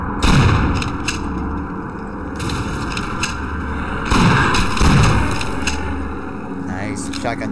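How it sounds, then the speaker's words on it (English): Shotgun fired in Half-Life, several loud booming blasts spaced a second or so apart, heard over ongoing game noise and someone talking. "Shotgun takes care of that guy in two shots."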